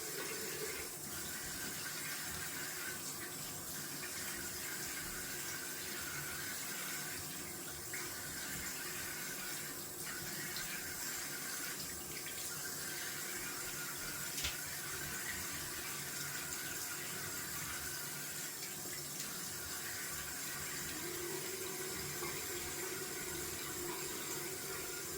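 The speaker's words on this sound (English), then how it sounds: "Gonna go down for some cold water rinse." A bathroom tap runs steadily for a cold water rinse during a wet shave, giving a continuous, even splash of running water with no talking.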